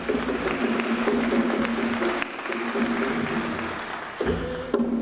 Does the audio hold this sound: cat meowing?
no